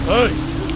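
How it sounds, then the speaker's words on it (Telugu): Steady rain falls in a drama scene at a house where a funeral is waiting, a constant wash of rain under a brief spoken voice. "ఈ వర్షం ఆగేలోగా"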